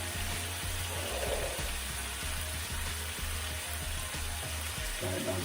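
Beef sirloin searing in a pan before going into a slow cooker, a continuous sizzle over a low, pulsing hum.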